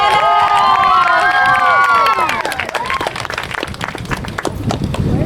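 A crowd at an 8th grade graduation ceremony breaks into loud applause and cheering with high whoops, then settles into steady clapping that fills the hall.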